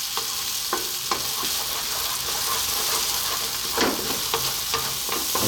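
Ethiopian-style eggs frying in a pan while being stirred constantly, a loud close sizzle with scraping strokes of the utensil across the pan.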